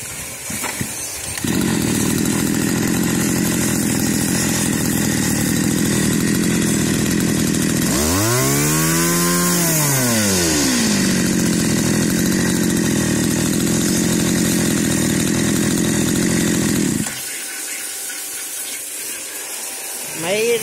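Komatsu G2K 26cc brush cutter engine running loud and close, holding a steady drone, revving up and back down midway, then dropping to idle near the end.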